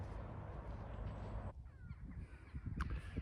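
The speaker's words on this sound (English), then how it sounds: "We got sun. The birds are out." Outdoors under a sunny sky, a crow caws among calling birds. A steady low rumble of wind or water fills the first half, then drops away to leave brief caws and chirps nearby, fairly faint.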